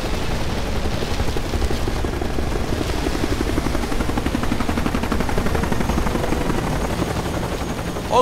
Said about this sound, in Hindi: हेलीकॉप्टर नीचे लो।